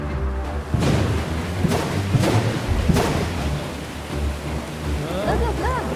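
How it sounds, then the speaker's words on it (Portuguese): Heavy rain pours steadily while several deep thunder cracks and rumbles strike close by in quick succession, with faint tonal sounds rising near the end. "o Senhor mandou trovões e chuva"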